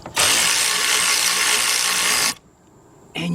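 A big ratchet loosening a bolt on a Ford Focus alternator gives one loud, continuous buzzing whir for about two seconds, stops abruptly, then starts again briefly at the end, close and alone.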